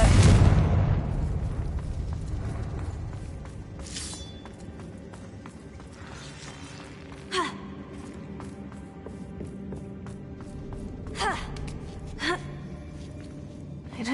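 A Confringo blast spell explodes inside a closed-off mine in Hogwarts Legacy, a loud booming burst at the start that decays into a low rumble, followed by a few fainter pops and thuds.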